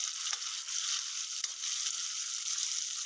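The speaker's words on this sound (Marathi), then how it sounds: "हा मसाला आपल्याला चांगला शिजवून घ्यायचा आहे, जोपर्यंत हे तेल सुटत नाही याला चांगलं" Spice masala fries in oil for a soybean curry, giving a steady, close, high-pitched sizzle that runs without a break, with faint stirring crackles now and then.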